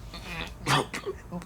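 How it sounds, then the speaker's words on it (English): A few short, sharp bursts from the throat, like a cough or two, spaced unevenly in a quiet room. "You're coughing a lot."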